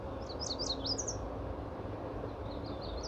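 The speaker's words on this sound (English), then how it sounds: "wow, those are pretty bird sounds." Quick high chirps from a small bird trill in a short burst, then fainter chirps follow later over a steady low background hum.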